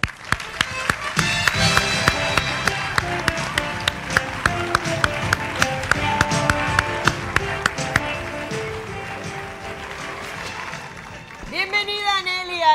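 Studio audience on the Puerto Rican TV show El Gusto Es Mío applauding and clapping to welcome a guest, a steady wash of claps mixed with band music, fading near the end into a voice.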